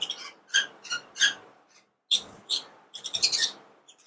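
Pearl conure parrots at a bird market give short, sharp chirping calls in quick bursts, fairly close and clear, with brief gaps between.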